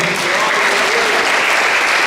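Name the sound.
congregation applauding in church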